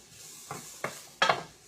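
Chicken noodle soup ingredients with garlic sauteing in a pot, giving three short stirring scrapes and sizzles that grow a little louder, the last one strongest.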